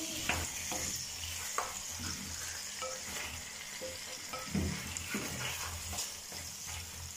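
Potatoes fry with garlic in a pan for a potato and minced meat tagine, a soft steady sizzle with occasional stirring scrapes and light knocks, quiet and close throughout.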